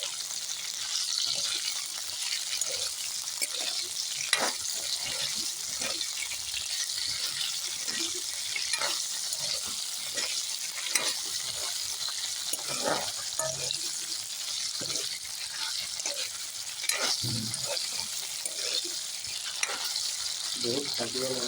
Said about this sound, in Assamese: এনেকৈ আমাৰ ভেন্দিটো নাড়া চাড়া কৰিব লাগিব।